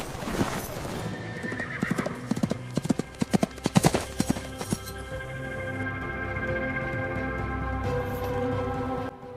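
A horse's hooves clop in a quick, loud burst of beats, followed by a whinny, set against a low steady background rumble in a night scene.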